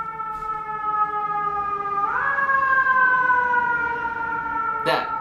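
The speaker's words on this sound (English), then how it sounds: "Cop cars are going by in the background. Ambulances." Police car and ambulance sirens passing outside an apartment, loud wailing tones that rise and sweep in pitch, with a brief sharp burst near the end.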